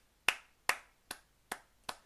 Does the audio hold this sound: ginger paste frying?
no